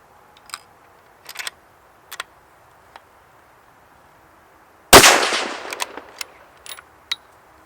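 A single loud rifle shot from a Savage 110 KLYM ultralight carbon fibre rifle in 6.5 Creedmoor, a sharp blast with a decaying tail, surrounded by quiet clicks and handling ticks before and after.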